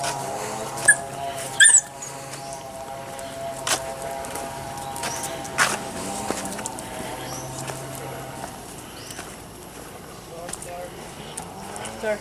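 A little white dog whimpers and yips in short, high bursts near an orchard, scattered through outdoor noise while people talk nearby.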